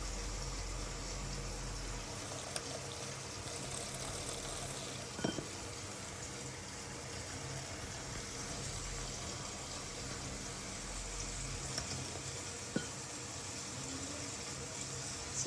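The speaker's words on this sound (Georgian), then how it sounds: "ცივი წყალი მაქვს მოშვებული, რომ ცივი წყალი დავასხა" Cold water runs steadily from a kitchen tap, a continuous soft rushing stream that stays fairly quiet and unbroken throughout.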